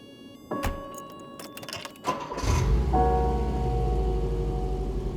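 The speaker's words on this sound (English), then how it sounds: "I drive a 1991 Volkswagen Vanagon" A 1991 Volkswagen Vanagon engine cranks with a few clicks and a brief whir, then catches and settles into a steady low idle, near and fairly loud, with a light patter like rain in the background.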